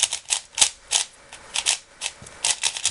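Quick plastic clicks and clacks repeat in irregular bursts, close by, as a new, stiff MoYu AoSu 4x4 puzzle cube is twisted turn after turn.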